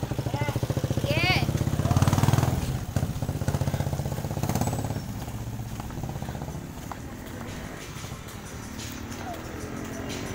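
Kawasaki HD3 and Suzuki X4 motorcycles running at night, a steady mid-pitched engine drone throughout, louder in the first half with a voice talking over it early on.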